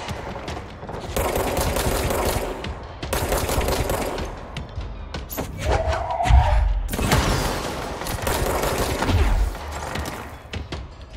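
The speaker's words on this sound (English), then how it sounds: "you're shooting at Wells" Rapid automatic gunfire from the video game Control rattles in dense, loud bursts with brief gaps, a few heavier thuds mixed in.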